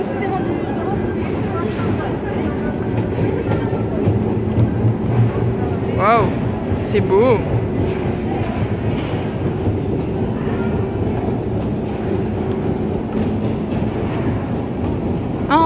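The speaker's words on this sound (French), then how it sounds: "Voilà le métro, plutôt classe." Steady rumble of a Russian metro train rolling along, with brief squeals of wheels; a person speaks briefly in French over the noise.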